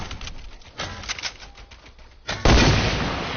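Gunfire in the video game Fortnite, a scattered run of short cracking shots followed by a loud sustained burst near the end, fairly close and dominant with no talk over it.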